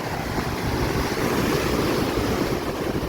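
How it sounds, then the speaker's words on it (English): Ocean surf breaking against rocky shoreline at Kings Landing, a steady, close roar of churning waves with wind buffeting the microphone throughout, no voices. "It's just the waves. The wave action is breaking the rock."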